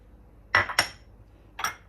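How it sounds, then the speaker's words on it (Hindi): A spoon clinks against a bowl while spices are mixed into eggs: two quick close taps, then a third clink after a short pause, with quiet in between. "इसको अच्छी तरह अंडे में मिक्स कर लेते हैं।"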